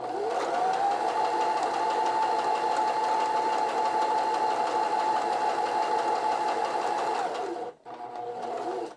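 Sewing machine stitching a buttonhole, a loud continuous whirring hum at steady speed with a rising pitch at the start, cutting out briefly near the end before resuming.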